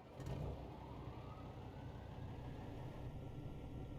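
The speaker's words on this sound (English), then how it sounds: "You can hear the turbo winding up" A 1980s Freightliner FLC truck engine with turbo, simulated in American Truck Simulator, runs as a steady, fairly quiet drone, a short swell near the start settling into an even idle-like rumble.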